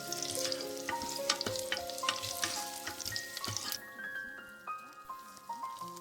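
Spices crackle and sizzle in hot oil in a pan while making pumpkin gravy, busy popping and spattering that thins out after a few seconds, with a steady hum beneath.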